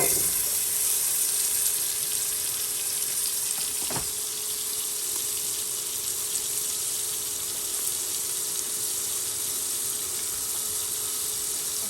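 Butter sizzling in a hot pan before crabs and shrimps go in, a steady broadband hiss with fine crackle running unbroken and fairly loud throughout, with one brief sharper pop near the start.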